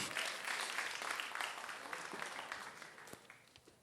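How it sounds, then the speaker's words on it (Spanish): Church congregation claps together in a fairly faint, distant burst of applause that gradually thins and fades over a few seconds. "Aplauso a nuestro querido hermano Enrique Torres Giesi."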